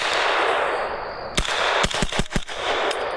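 A Sig MCX rifle in .300 Blackout fires a sharp first shot, then a quick string of about five more, each a loud, hard crack over steady outdoor wind noise at a shooting range.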